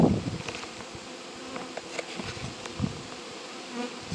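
Honey bees buzz steadily and close by, a dense droning hum with occasional louder passes of individual insects.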